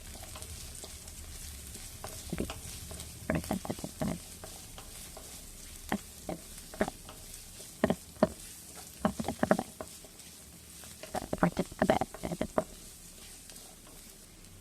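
Finely chopped shallots crackle and sizzle softly in a pan while a spoon stirs them in for a Kerala-style squid roast, giving scattered scraping taps over a low, steady fry.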